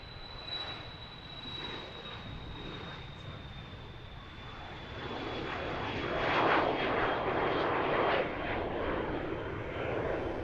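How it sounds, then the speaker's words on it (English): A Cessna Citation business jet taking off at Lancaster Airport in Pennsylvania, a sustained loud engine roar with a high whine that builds and holds steady over several seconds. "there goes the jet. A Citation off to Teterboro."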